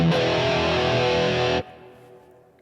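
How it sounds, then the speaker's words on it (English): Electric guitar played through a Line 6 Helix with distortion and chorus engaged, a loud sustained chord ringing for over a second before being cut off, leaving a faint decaying tail. "I want my distortion and my chorus"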